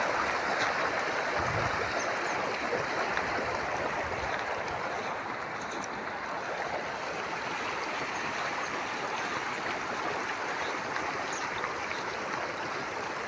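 Water rushes steadily through a full irrigation canal, a dense, constant roar of flowing water with no talking.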